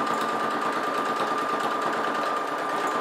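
Sewing machine stitching two lining fabrics together for a Christmas stocking, a fast, even whirring rattle of the needle running steadily and close without pause.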